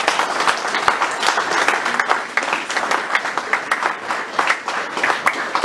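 A church congregation applauds together during a sermon, dense rapid clapping from many hands, loud and sustained throughout with a few faint voices mixed in.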